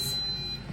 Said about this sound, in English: we've beeped for the final time